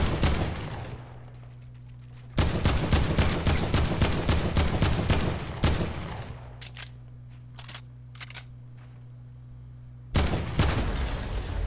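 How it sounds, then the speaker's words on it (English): The heavy assault rifle in Fortnite Battle Royale fires in loud, rapid automatic bursts with short breaks between them, set against quieter in-game background sound. "The new heavy assault rifle here in Fortnite Battle Royale"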